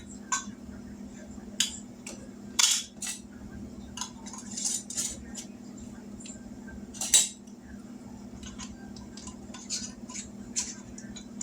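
Metal canning lids being set onto hot jars, with a steady low hum underneath and scattered light clinks and taps. Sharper metallic clatters stand out around a few moments.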